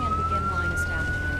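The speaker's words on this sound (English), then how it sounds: "That sounds like a really good siren for a game like this." A video game siren wails steadily in Fire Fighting Simulator, a single rising electronic tone held throughout over a low engine rumble, with police vehicles on scene.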